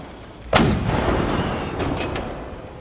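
A Mughal army artillery bombardment lands as one sudden, loud, close cannon blast, followed by a long rumbling decay over low background noise.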